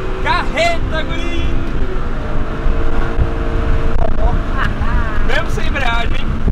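A Honda Civic Si revs hard and accelerates, its engine note rising and cutting at the rev limiter, loud and close with wind buffeting the microphone while people shout excitedly over it.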